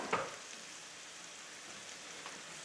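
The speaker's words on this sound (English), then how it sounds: "And my beef is cooking, beef sausage." Beef sausage sizzling in a pan for haluski, a steady soft frying hiss with a brief clatter at the start, fairly faint and with no talk over it.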